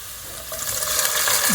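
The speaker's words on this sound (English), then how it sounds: "Look, just that noise. Ah. That sizzle. Just that sizzle." Beans sizzle in a hot frying pan, a crackling hiss that builds slightly louder toward the end, with faint clinks.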